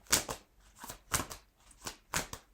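Oracle cards shuffled and drawn from a deck during a tarot-style reading, a quick series of crisp riffling bursts in a regular rhythm, close and fairly quiet with no talk.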